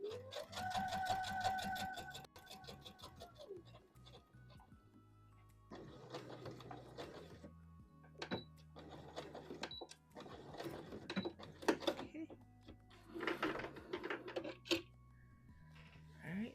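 A sewing machine top stitches a wrap dress in several short runs separated by pauses, moderately close and fairly quiet, with a strong tonal hum at the start.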